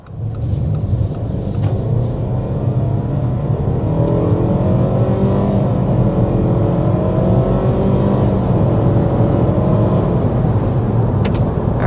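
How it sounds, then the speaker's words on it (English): A 2024 Mitsubishi Outlander accelerates hard up to 60 mph, heard from inside the cabin as a loud, steady engine drone with rising tones as it climbs through the gears, with no talking. "So let's go ahead and start with a hard acceleration."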